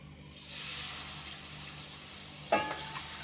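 White sugar syrup is poured into wheat flour roasted in ghee for halwa, giving a soft steady sizzle and hiss in the pan, then a sharp brief spurt of bubbling as the syrup hits, with quiet stirring.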